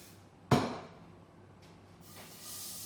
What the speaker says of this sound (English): I like to spray mine so they don't stick.